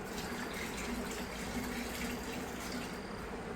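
Water from a clay pot being poured and stirred into curd and butter for churning desi Gir cow ghee: a steady, close splashing and trickling that runs unbroken throughout.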